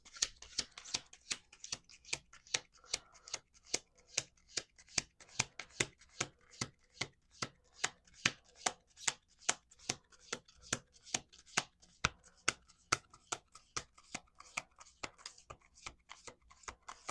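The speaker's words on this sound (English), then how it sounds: "Okay, we're going to do one more shuffle here." A deck of playing cards is riffled and bridged over and over, a steady run of crisp flapping bursts, close and loud, with no talking.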